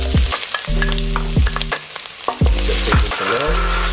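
Shallots fry in hot oil in a wok for spicy chilli crab, a loud, continuous sizzle with clanking utensil strikes and scraping as they are moved about.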